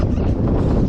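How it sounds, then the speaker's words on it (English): Strong wind blasts across a snowy hilltop and buffets the microphone with loud, continuous low rumbling and roaring gusts, with no speech. "It's a little windy up here."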